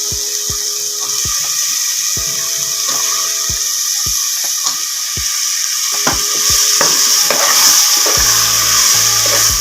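Soaked chickpeas sizzle in a hot pan with onion and tomato while being stirred, a steady frying hiss broken by repeated scraping knocks of the spoon against the pan, close and fairly loud.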